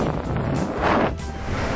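Sea waves wash onto the shore at Nice, a steady broad surf roar with one swelling crest in the middle, mixed with wind buffeting the microphone and no voices.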